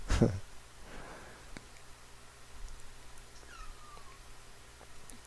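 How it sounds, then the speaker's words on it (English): A cat meows once, faint and thin, after an initial low thump, with quiet room noise around it. "It likes to meow a lot."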